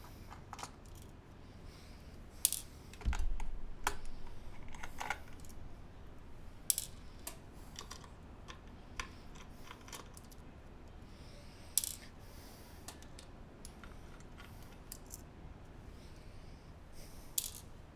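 Screws being undone from a mechanical keyboard during cleaning and repair: scattered small metallic clicks, taps and rattles, one slightly louder clatter near the start, close and fairly quiet with no talking.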